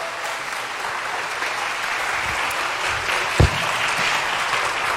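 A church congregation gives a steady round of applause to welcome a pastor at a Sunday service, broad even clapping throughout with one sharper thump partway through.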